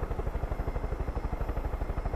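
A damaged helicopter in the video game Far Cry 5 keeps up a steady, loud rotor chop, its even low thudding beats repeating fast over a continuous engine and wind roar.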